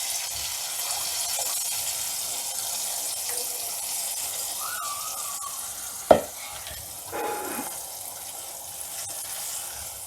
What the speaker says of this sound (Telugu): ఇప్పుడు ఇంతోటి ఉంది కదా చింతపండు రసం, ఇది కొంచెం బాగా ఉడకాలి